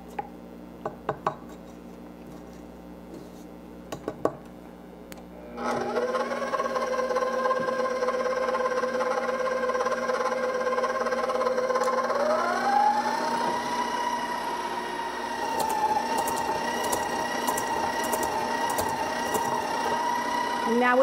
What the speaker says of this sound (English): Now with my mixer on low,